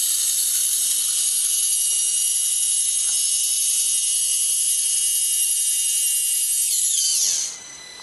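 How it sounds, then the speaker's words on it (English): A motor-driven periscope lift mechanism for an R2 droid prototype runs with a steady high-pitched mechanical whine and faint clicking, close by, then winds down and stops near the end; no one speaks. "as the motor turns"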